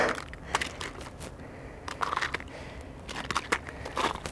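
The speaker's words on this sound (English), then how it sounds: "Nothing will ever beat just the unbridled joy at crunchy ice." Irregular crunching footsteps on brittle ice, close by, with crisp cracking bursts every half second or so between quieter gaps.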